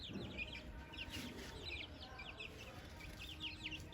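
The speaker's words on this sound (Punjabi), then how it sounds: "ਚਿੱਟੀ ਕੁਕੜੀ ਦਾ ਆਪਾਂ ਛੱਡਤੀ ਆ ਬਾਹਰ" A white hen, just let out into the open, clucks amid a busy outdoor farmyard, with other birds chirping and a steady low background hum throughout.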